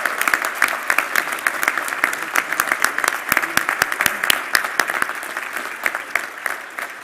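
Enthusiastic applause at a liberal arts school commencement ceremony, dense crowd clapping in a large venue, sustained and loud with scattered sharper claps throughout.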